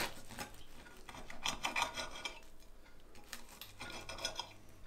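Knife sawing through a slice of Armer Ritter made with grey bread, giving repeated close rasping strokes in short bursts with brief pauses between them.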